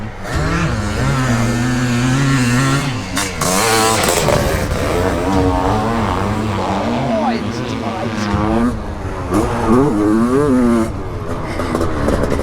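A 500cc two-stroke dirt bike engine, one of a Yamaha YZ500, Kawasaki KX500 or Honda CR500, revs and bogs with a rough wavering drone while people talk over it.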